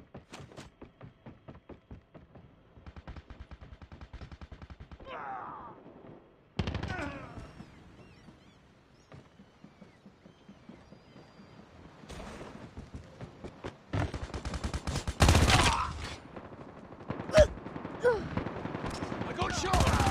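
Gunfire in the video game Call of Duty Mobile: quick machine-gun bursts and single shots come in clusters, quieter at first and then louder and denser, with game voice lines mixed in.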